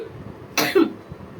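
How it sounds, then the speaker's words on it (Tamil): A man in a quiet room lets out a single sharp cough, close to the microphone, followed by a short rough throaty tail. "சாரி, இந்த இருமல் வர்றதுனால என்னால பேசிக்கிட்டே இருக்க முடியல"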